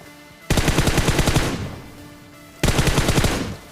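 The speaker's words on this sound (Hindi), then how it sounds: "यहाँ से कोचिंग के पहाड़ी से फायरिंग की आवाज़ आती है।" Two loud bursts of rapid automatic gunfire from a hill in an online shooter game, each lasting about a second, separated by a short pause.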